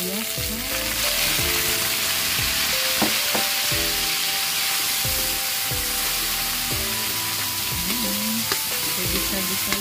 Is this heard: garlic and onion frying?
yes